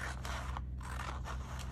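Scissors snip through paper window envelopes in a few quick, crisp cuts, close and dry, over a steady low hum from a washing machine running nearby.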